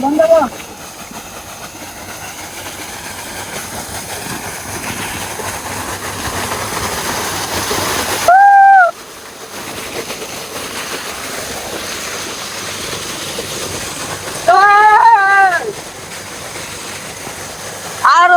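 Water gushes loudly and without a break from a village deep tubewell during bathing, a close rushing roar with brief voices heard over it.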